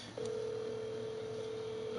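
A telephone call is being placed. A brief click is followed by a single steady line tone that holds at even volume until the end, with no speech.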